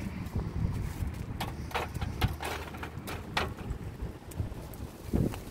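Wind buffets a small fire on the seashore at Fujairah, giving a continuous low rumbling roar with a few faint crackles and knocks. It is moderately loud and close, with no clear speech.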